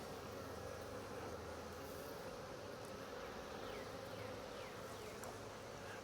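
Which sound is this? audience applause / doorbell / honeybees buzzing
honeybees buzzing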